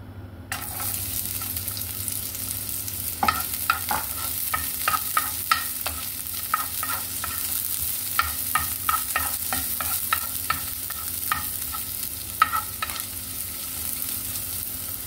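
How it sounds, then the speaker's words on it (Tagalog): Onions frying in a pan for tofu and chicken breast sisig: a steady bright sizzle runs throughout, with a quick run of clicking spatula strokes in the middle, close and moderately loud, with no voices. "Fry natin ng konti ang sibuyas."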